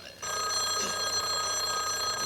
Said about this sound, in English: The phone's ringing.